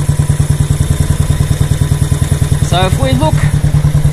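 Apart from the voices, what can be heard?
motorcycle engine idling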